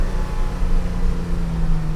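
A 1987 Porsche 911 Carrera 3.2 engine downshifts at 4800 rpm as a steady, close, buzzing drone with a sustained hum and no break.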